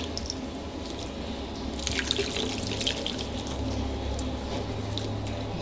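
Water trickles and splashes slowly over a guinea pig being bathed, soft dripping and pouring sounds close by with faint wet squishing, steady and quiet.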